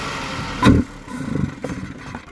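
A car engine idles steadily at close range, with a sharp thump near the start and a slight uneven swell afterward.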